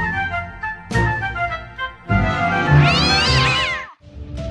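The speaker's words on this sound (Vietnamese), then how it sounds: "Con mèo nhà mình bị sao thế hả bà?" A sick cat in an animated fairy-tale cartoon meows repeatedly and plaintively, several drawn-out, wavering cries at close range, one rising into a long high wail, with no talking.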